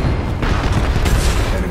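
A Titan mech blowing up in the sci-fi shooter Titanfall 2, a loud continuous booming explosion with rumbling low end and gunfire-like crackle throughout, no voices.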